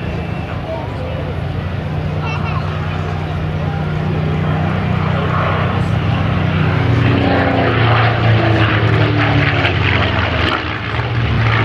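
A Supermarine Spitfire propeller fighter flies at the 2015 Barton airshow, its engine a steady loud drone that swells slightly over several seconds, with someone talking over it.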